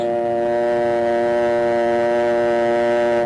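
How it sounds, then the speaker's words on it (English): A steady, continuous telephone dial tone hums at an even level throughout, loud and unbroken. "Then remove the receiver and listen for the dial tone."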